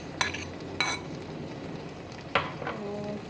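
Cream stirred into carrot halwa in a pot, a spoon scraping and knocking in a few distinct strokes over a soft steady bubbling hiss.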